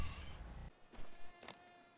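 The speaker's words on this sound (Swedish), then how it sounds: "Myggorna, bort med myggorna." Mosquitoes buzz in a video game, a thin high whine heard briefly and faintly on its own.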